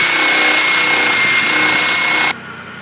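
An angle grinder runs loud and steady grinding rust out of the corners of a truck body, with a high whine that cuts off abruptly near the end.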